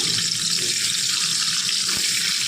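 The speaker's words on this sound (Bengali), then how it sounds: "এই দেখুন বন্ধুরা, ওই একই তেলের মধ্যে এবার লবণ হলুদ মাখিয়ে রাখা ডিমগুলো আমি দিয়ে দিচ্ছি।" Boiled eggs, scored and rubbed with salt and turmeric, frying in a pan of hot oil, giving a steady, loud, close sizzle that hisses on without a break.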